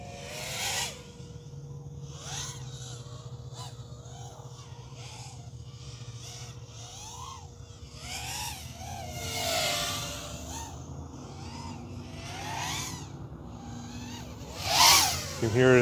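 An HGLRC Wind5 Lite FPV racing drone's motors whine and oscillate in flight, a pulsing, wavering buzz that rises and falls in repeated sweeps and swells louder at moments, with a voice talking over it.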